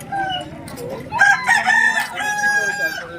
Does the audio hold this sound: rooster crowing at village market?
yes